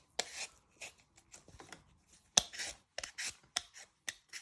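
A vegetable peeler scrapes around a potato in a string of short, crisp rasping strokes at an uneven rhythm, close and fairly quiet with brief pauses between strokes.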